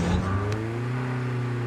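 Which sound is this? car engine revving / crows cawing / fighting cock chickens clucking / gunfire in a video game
car engine revving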